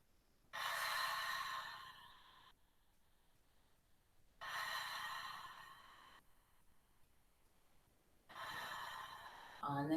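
Slow, audible yoga breaths during a standing twist pose in a studio class, three long airy exhales or inhales a few seconds apart, close and fairly loud, with quiet gaps between them.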